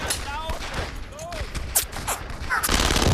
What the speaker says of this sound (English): I'm gonna get on this machine gun right here.